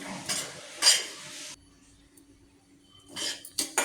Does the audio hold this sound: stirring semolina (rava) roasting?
yes